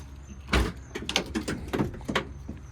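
Rear barn doors on a 2019 Ford Transit Connect XLT van are worked open, giving a firm thud of a latch and a series of close mechanical clunks and rattles with no talking.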